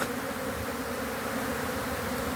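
Honey bees fly around hives at a spring apiary in mild shade, making a dense, steady, close buzzing swarm drone that holds evenly throughout with no voices.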